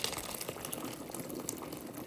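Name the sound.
miswa soup boiling in pot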